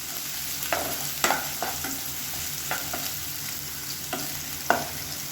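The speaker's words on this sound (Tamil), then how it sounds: "இந்த வெங்காயம் நல்லா வதங்கட்டும்" Chopped onions sautéing in a pan for sambar, an even frying hiss punctuated by several sharp spatula scrapes and taps at irregular intervals, close by and with no voices.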